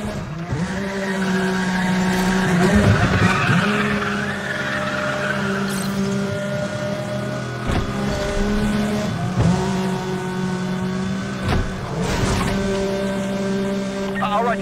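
Cars street racing in Need For Speed: The Run, engines roaring loudly with repeated sharp tire squeals and skids, radio chatter from police units faintly underneath.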